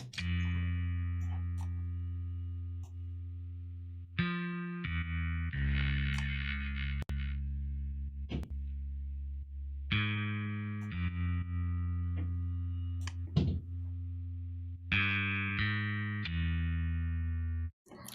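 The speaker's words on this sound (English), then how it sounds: "After this chain, the bass sounds like this." Heavy processed bass with EQ, Pro L2 limiting and kick sidechain from a DSBM/post black metal track made in Ableton: loud sustained droning notes in blocks, pumping and shifting every few seconds, alone with no voices.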